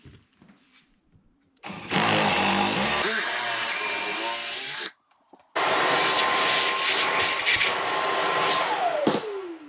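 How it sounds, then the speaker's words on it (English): A power drill whirs loudly boring into a wooden table leg in two long bursts separated by a brief pause, its pitch shifting as it bores, then winding down at the end. "drill a hole down into the middle of this deep"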